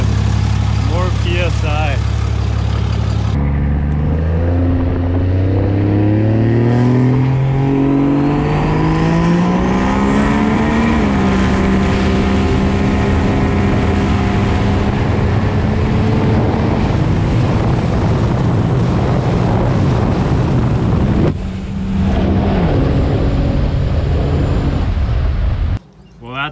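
Dodge 2500 Cummins diesel truck making about 1000 wheel horsepower, revving very loudly up to a sustained roaring pitch and holding before cutting off, with people talking over it.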